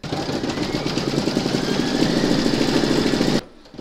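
A home embroidery machine stitches a rose outline for sweetheart bunting, with a steady, fast mechanical whir and needle chatter, loud and close, running continuously before stopping abruptly near the end.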